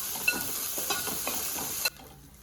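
Thinly sliced onions frying in a pan, a close steady sizzle with small crackles that cuts off near the end.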